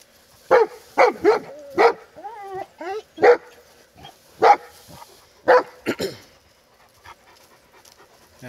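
Great Pyrenees dogs confronting a snake let out a string of loud, close barks and yips, irregular but frequent, with a few whining yelps between them and quieter panting toward the end.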